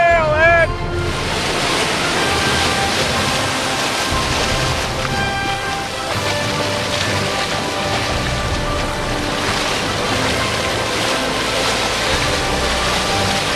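Loud, continuous ocean surf rolls onto a Southern California beach, a steady roar of breaking waves and wash with wind buffeting the microphone throughout.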